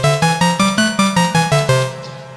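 ARP Odyssey synthesizer with oscillator sync switched off and both oscillators sounding, playing a rapid rhythmic sequence of eight bright, buzzy harmonic notes that steps up and down, then a final note decays away.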